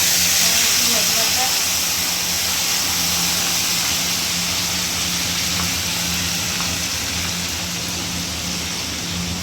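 Whole garam masala goes into hot oil left from frying fish for a doi katla curry, giving a loud, steady hiss and sizzle that stays close and even for about nine seconds.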